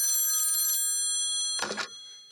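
A telephone rings with steady bright tones that fade, then a short burst of noise follows, as a call is placed to Donald Trump.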